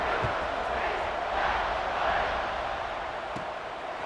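A stadium crowd in an American football video game roars steadily in the background before a kickoff, a broad, continuous cheer without distinct voices standing out.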